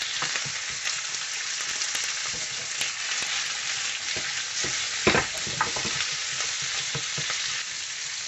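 Chicken jalfrezi ingredients sizzle steadily in a hot pan, a dense continuous frying hiss with occasional stirring clatters and one louder scrape midway, no voices.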